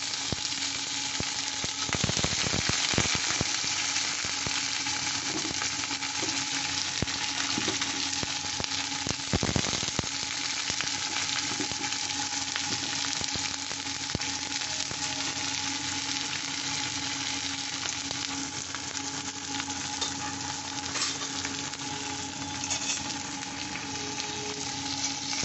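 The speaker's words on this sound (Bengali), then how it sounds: "আমি এই কালো জিরে কাঁচা লঙ্কাটা ফোড়ন দিয়ে দিচ্ছি। ফোড়ন দিয়ে আমি এই রসুন কুচি দিলাম, পেঁয়াজ কুচি দিয়ে দিলাম" Chopped garlic and onion with nigella seeds and green chili frying in oil for a mourala fish dish, a loud, constant close sizzle with occasional stirring scrapes throughout.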